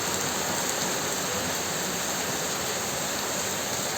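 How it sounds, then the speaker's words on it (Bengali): Steady rain falling after a spell of intense heat, a dense continuous hiss that stays even and fairly loud throughout, with no voices. "দেখেন বৃষ্টি"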